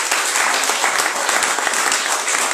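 A church congregation applauds God during a French-language sermon, the dense clapping loud, steady and continuous, filling the whole stretch with no voices over it.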